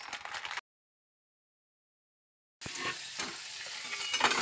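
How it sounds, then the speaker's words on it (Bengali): Potatoes fry in a pan for chicken Maggi noodles, with a steady close hiss of oil broken by a two-second gap of silence, then stirring clatter returning louder. "আলু ভাজা হচ্ছে ম্যাগির জন্য, আর চিকেন দেওয়া হয়েছে।"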